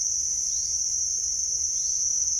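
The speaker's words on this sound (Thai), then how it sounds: "ได้ยินเสียงพวก สัตว์เล็กๆนะคะที่ร้องอยู่ก็น่าจะเป็นพวกจิ้งหรีดนะคะ" Crickets in an agricultural garden chirp in a dense, steady high-pitched trill that runs unbroken and fairly loud, with a faint low background rumble and no talking.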